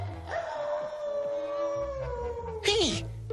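A cartoon dog from the 1985 Muppet Babies series gives a long drawn-out howl that bends downward, ending in a short yelp, loud and close over background sound.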